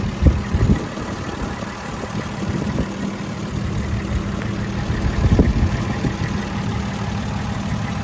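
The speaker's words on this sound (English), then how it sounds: "This is the factory 6-cylinder motor." The factory six-cylinder engine of a restored 1961 Jeep Willys Wagon 4x4 idles steadily, a low, even, close rumble with a few faint knocks and no speech.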